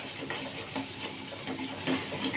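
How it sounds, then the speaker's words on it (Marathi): Paneer masala and salt frying in a pan, a steady close sizzle broken by soft scraping stirs across a couple of seconds. "त्याला सर्व फ्राय करून घ्यायचं"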